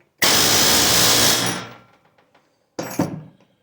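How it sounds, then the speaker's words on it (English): A loud burst of air hammer setting a bullet guide in a Galil rifle rattles for over a second and fades, then a second shorter burst follows after a pause. "I use an air hammer"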